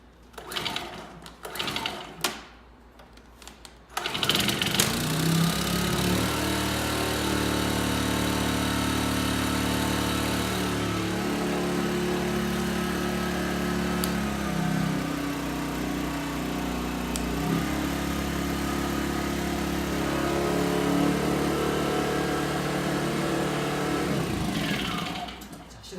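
A small EGI1000 mini generator engine, already warmed up, catches after a few short pull-start bursts and then runs at a steady, loud drone close by, holding a constant hum until it cuts off near the end.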